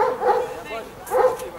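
A dog gives two bark-like yelps, about a second apart, each loud and fairly close. The setting is a youth football friendly match. There is no talking between the two calls.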